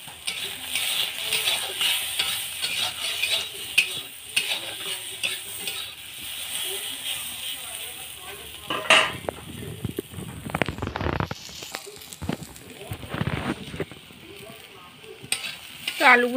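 Potatoes with a little turmeric fry in hot oil, a continuous sizzle broken by stirring clatters and scrapes, louder bursts of spatula contact toward the end, no voices.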